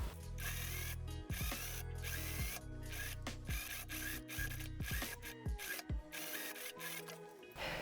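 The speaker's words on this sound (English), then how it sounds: "We're gonna stretch and then sew everything at 1 centimeter to secure everything in place." A sewing machine runs in rapid mechanical bursts, stitching a dirndl blouse seam at a one-centimetre allowance, with short pauses between runs and nobody talking.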